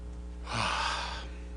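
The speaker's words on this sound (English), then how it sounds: "If you yawn like this," A person demonstrating a yawn, giving a single breathy, drawn-out exhale that swells and fades over about a second, close to the mic with a steady low hum underneath.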